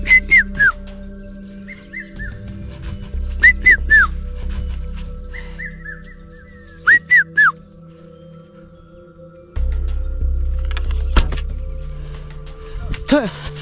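Among the Hadza, a young man whistles to mimic a bird call and lure it in: several groups of short, bright, swooping chirps rise and fall over a low steady hum and scattered background noise.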